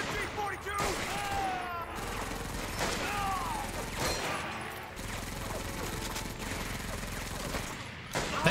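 Sustained machine gun fire and scattered gunshots in the World War II shooter Medal of Honor: Vanguard, a dense continuous fusillade throughout with a voice talking over parts of it.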